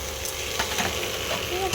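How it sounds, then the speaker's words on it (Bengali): Battered pui (Malabar spinach) fritters fry in hot oil with a broad, steady sizzle, close by, with a few brief clatters of utensils. "আমি এই যে পুঁই মুচুরি কিন্তু ভাজছি"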